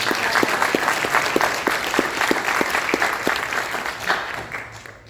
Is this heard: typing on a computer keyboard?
no